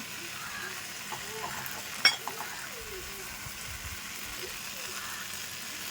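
Onion, tomato, masala and salt sauté in a pan for chicken gravy, a soft, steady sizzle with a few clinks and scrapes of stirring, faint and close, while someone talks over it.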